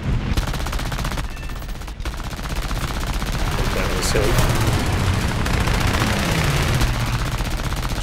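Aircraft machine-gun fire in War Thunder air arcade combat, an I-15 biplane era dogfight: dense, continuous rattling bursts under steady engine drone, loud throughout, with someone talking briefly over it.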